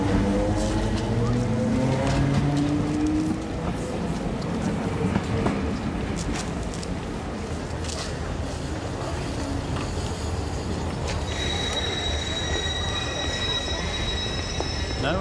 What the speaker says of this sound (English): There's your train now.